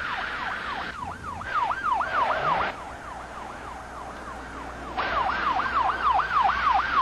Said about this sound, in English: I put the overhead lights on, the siren